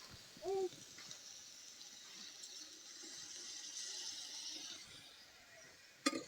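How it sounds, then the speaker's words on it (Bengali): Water pours into a pan of shapla stems and prawns, a faint, continuous splashing rush that swells gently and then tapers off, with a small knock near the end. "এবার দিয়ে দেবো জল"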